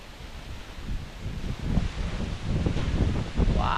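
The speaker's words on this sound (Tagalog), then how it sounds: "ang lakas ng hangin" Strong wind gusts across an outdoor work site where sand and gravel are being hauled, a rough, rumbling buffet against the microphone that rises and falls in uneven surges, with faint rustling.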